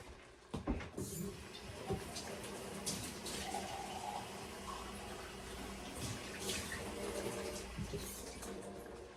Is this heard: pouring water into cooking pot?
yes